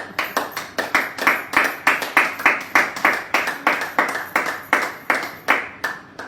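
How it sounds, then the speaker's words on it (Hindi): A small group of people clap in a steady, rhythmic burst of about two dozen claps, close by and fairly loud, with no talking over them. "वीडियो चालू हुआ तो आप ताली बजाइए"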